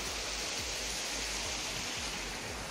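A river flows beside rice-field land, a steady broadband rush of water that sounds continuous and fairly quiet, with soft low thumps underneath.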